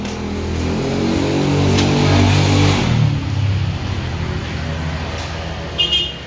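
A motorbike passes close by, its engine revving loudly and swelling before fading away, with a few faint knocks near the end.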